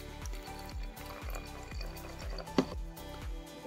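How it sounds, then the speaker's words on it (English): Glass cleaner pours into a container in a steady, quiet gurgling stream with repeated rhythmic glugs as the liquid rises. "you're going to fill up your container to that very first mark"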